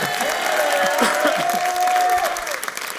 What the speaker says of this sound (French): Par applaudissement, qui veut la chronique sur Adèle Laurent?